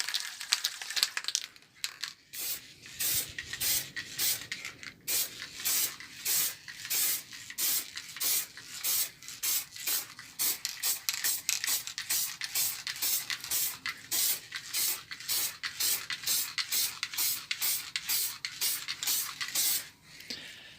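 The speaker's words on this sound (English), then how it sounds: "I'm just going to spray on a sealant" Short bursts of aerosol sealant spray hiss from a can onto MDF in a steady rhythm, close by, pausing briefly between each pass, with no voices.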